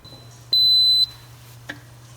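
A single sustained electronic beep from an Instant Pot, loud and high-pitched, lasting about half a second over a quiet low hum, while cooking Kerala Matta rice.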